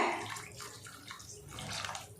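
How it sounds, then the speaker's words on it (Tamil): Water pours steadily into a pot of tamarind fish curry (kola meen kulambu), a soft continuous splashing and gurgling heard alone and fairly close. "இப்போ இதில் நம்ம தண்ணி சேர்த்துக்கலாம். உங்களுக்கு எவ்வளோ தண்ணி தேவையோ அவ்வளோ தண்ணி சேர்த்துக்கோங்க."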